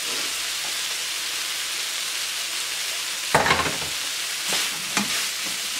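Tomatoes tipped into a hot pan of onion and capsicum sautéed over high flame, giving a steady sizzle with a sudden louder burst and a few scraping stirs near the end.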